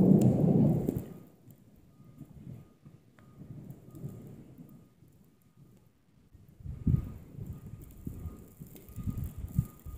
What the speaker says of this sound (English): It's thunder. It is thundering while it's snowing.